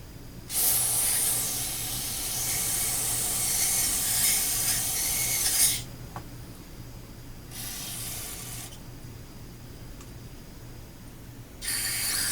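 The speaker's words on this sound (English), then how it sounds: "safety glasses when using carburetor cleaner" Carburetor cleaner hisses from an aerosol can onto a Corvair carburetor in two long close sprays, the first about five seconds and the second a few seconds, with a third burst starting at the end.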